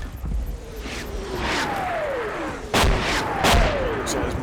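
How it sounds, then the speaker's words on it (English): Mortar shells whistle down and land in the World War II game Combat Mission Battle for Normandy. Descending whines end in two sharp, booming impacts over a rumbling battlefield background. "So those mortars are going to continue coming down the Americans."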